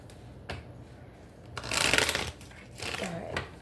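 Tarot cards are being shuffled by hand in quick riffling bursts, the loudest rush coming midway and a softer one near the end, with faint background noise between them.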